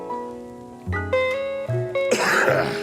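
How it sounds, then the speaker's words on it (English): A throat clearing and a short cough from a person on a live radio-style talk broadcast, with brief voiced rasps ending in a harsher, noisy burst, close to the microphone. "Coughing will happen."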